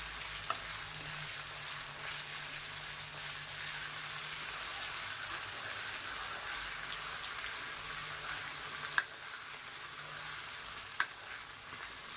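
Tomato puree with ginger-garlic paste frying in a pan, a continuous dense hiss and crackle held close and fairly loud, with a few faint clicks of a spoon, no voices.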